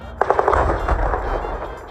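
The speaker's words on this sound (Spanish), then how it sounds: "Aumentan las explosiones en Gaza por los bombardeos israelíes." Explosions from Israeli bombing in Gaza, in news footage: a sudden loud blast followed by a quick cluster of sharp cracks, then a heavy rumbling roar that slowly fades, with no talking.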